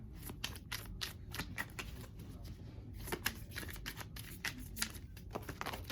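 Tarot cards being shuffled over and over in a continuous stream of papery riffles and soft slaps, close and steady with no talk.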